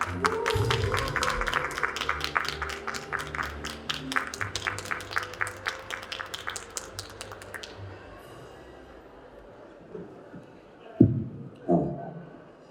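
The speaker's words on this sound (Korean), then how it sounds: "여러분들의 뜨거운 박수로 모셔보도록 하겠습니다" Warm applause from the audience at the 2025 Jeongseon County urban regeneration forum as a speaker is welcomed, dense rapid clapping over several seconds that fades out, followed by a couple of brief knocks.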